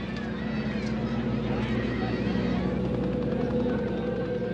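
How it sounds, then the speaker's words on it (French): Helicopter evacuating people from Saigon amid crowds of refugees at the United States embassy, a steady loud rotor and engine drone that continues throughout, with crowd noise and voices mixed underneath. "Quelques chanceux sont évacués par hélicoptère."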